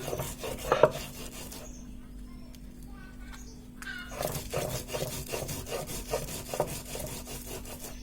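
Dried chili is crushed and ground on a traditional grinding stone with salt, rough rhythmic scraping strokes in short bursts with a pause midway, faint background voices and a steady hum underneath.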